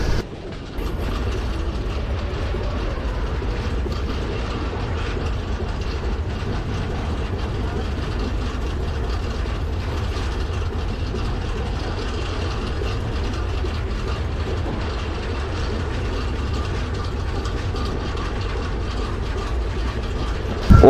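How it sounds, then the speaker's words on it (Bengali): Banalata Express train crossing the Jamuna Bridge, a steady loud rumble with rhythmic clattering and ratcheting of wheels and couplings throughout, heard from inside the carriage with no talk. "যমুনা সেতুর আগের মুহূর্তে আর যমুনা সেতুর উপরে ট্রেন ভ্রমণ কিন্তু আসলে খুবই মজার"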